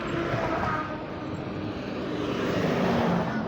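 On a highway at night in thick fog, a vehicle roars past at speed with a loud, broad rushing drone that swells and fades, like an aircraft passing overhead, along with wind noise and the steady rumble of the road.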